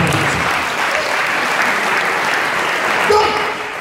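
A church congregation claps in steady, dense applause during a sermon, loud and sustained throughout, fading slightly at the very end.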